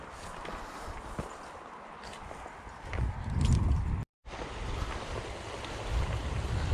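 Footsteps crunching along a riverbank while trout fishing, a slow uneven sequence of steps close to the microphone with outdoor water and wind noise behind them and a brief dropout midway.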